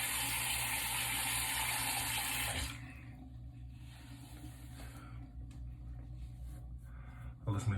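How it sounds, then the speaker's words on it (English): Water runs and splashes steadily while soap is rinsed off a man's face at a sink, loud and close, then drops off to quieter drips and handling sounds before a brief splash near the end. "Let's wash our face. All right. Get all the soap off."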